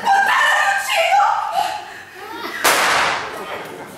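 Tense, overlapping voices, then a single sharp gunshot bursts out and rings briefly before fading.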